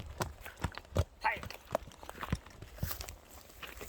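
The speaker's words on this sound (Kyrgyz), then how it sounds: "Мына кара атта ойнотуп келатат." Hooves of a black horse clip-clopping on the ground, irregular close thuds with a speaking voice over them.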